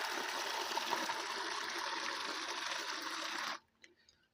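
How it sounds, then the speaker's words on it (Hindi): Water is poured over a woman's arm during ablution, a steady close splashing stream that runs for several seconds and then stops abruptly, leaving a few faint drips. "यहाँ से देखिए पानी डालना है आपको और अच्छी तरीके से मलते जाना है"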